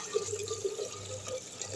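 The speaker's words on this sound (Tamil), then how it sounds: "இந்த பானை இதில் வந்து தண்ணி ஊற்றிக்கலாம் நல்லா தாராளமாக ஊற்றிக்கணும்" Water poured into a clay pot for cooking Kerala matta rice, a short, close trickling and splashing pour heard alone.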